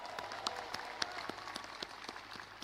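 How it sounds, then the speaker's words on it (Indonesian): Scattered applause from a public-event audience in Indonesia, fairly faint with irregular claps spread over a low murmur throughout. "tepuk tangan"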